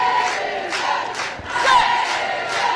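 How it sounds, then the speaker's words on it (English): French rugby supporters at an England versus France under-20 women's match chant "Allez les Bleus" in rhythmic surging waves, the massed voices rising and falling in a repeated cadence across the stadium. "can hear the cheer of Alele Bleu going up from the fans"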